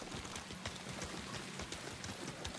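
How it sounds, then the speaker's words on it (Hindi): A horse gallops in the video game Ghost of Tsushima, a soft, quick, steady clip-clop of hooves heard faintly and evenly throughout. "भागा भाई घोड़ा भागा"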